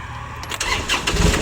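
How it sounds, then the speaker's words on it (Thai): A 16 hp walk-behind tractor engine cranks and catches. A brief starting burst rises into a rough, steady running note. "เดี๋ยวสตาร์ทเครื่องให้ฟังเสียง นะครับ"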